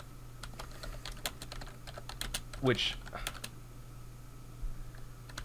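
Computer keyboard typing during a podcast recording, a steady stream of close, rapid key clicks running throughout beneath a voice that talks briefly.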